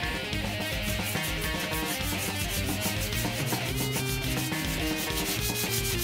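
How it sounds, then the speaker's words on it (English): A 320 grit sanding pad rubs over primer on a guitar body, a close, steady rasping scrub with rhythmic back-and-forth strokes, loud and continuous. "So using a 320 grit pad, I am going over the primer, being careful of my edges"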